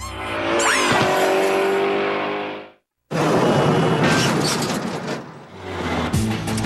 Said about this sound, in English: Canada's worst drivers have all learned how to do a spinning, skidding turn in reverse